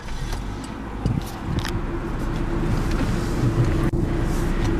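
A 1993 Honda Accord EX with a manual gearbox and the smaller engine runs close by, its steady low hum and rumble holding evenly throughout with no voices.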